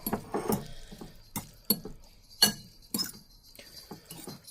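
A utensil stirs Mi Goreng instant fried noodles in a bowl, making a series of irregular, close clinks and taps against the bowl with short quiet gaps between them.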